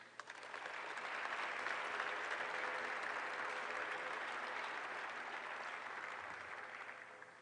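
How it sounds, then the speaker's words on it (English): Banquet audience applauding at an all-star awards dinner, a broad sustained wash of clapping that swells quickly, holds for several seconds and fades slightly near the end, heard from within the room. "Let's give another round of applause for Ava and her family, please."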